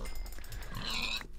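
A Minecraft pig gives a brief, clear oink-like grunt, heard alone over a quiet game background.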